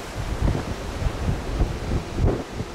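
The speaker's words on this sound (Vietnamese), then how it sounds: "gió cực kỳ lớn, gió và sóng rất là lớn" Strong wind roaring against the microphone with heavy waves surging at the harbor sea mouth of La Gi, Bình Thuận, where a diving boat for clam harvesting rides out rough water; loud, gusty rumbling throughout.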